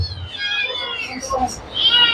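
A cat at an animal market gives a couple of short meows, close and fairly clear, amid faint background activity.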